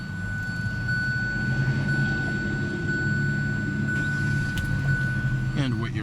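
A 2017 Kia Sorento's 2.4-liter inline four-cylinder runs at a steady idle, a low, even hum with a thin whine above it, close and constant with a brief voice near the end.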